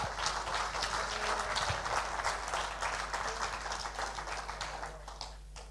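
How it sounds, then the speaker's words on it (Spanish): Steady applause from a church congregation fills the room for several seconds at an even level, easing off slightly near the end. "Si va a aplaudir, déle un aplauso al Señor fuerte."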